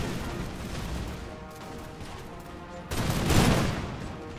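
Massed musket volleys in an Imperial Splendour battle with Prussian-era troops, a steady roar of crackling fire that swells into a louder burst near the end.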